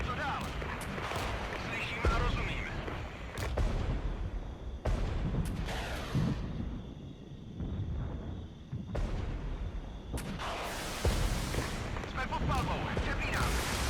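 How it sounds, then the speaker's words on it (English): Artillery strike in the war strategy game Regiments: repeated heavy booms and blasts rolling through a dense battle din of gunfire and explosions, with intermittent talk over the top. "We'll artillery strike the enemy artillery again."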